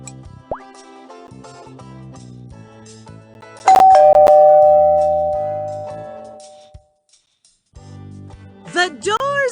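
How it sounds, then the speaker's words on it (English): Doorbell in a children's puppet show, a bright ding-dong chime ringing clearly and fading out over a couple of seconds, with voices speaking before it and after it. "The doorbell rang."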